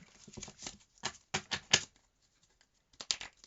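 Several bursts of crisp riffling, like a deck of cards being shuffled, with a pause of near silence before a final flurry.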